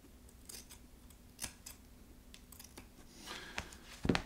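Scissors trim craft foam for a puppet's mouth plate, a scattered run of soft, close snips and rustles, a few sharper cuts near the end, with no talking.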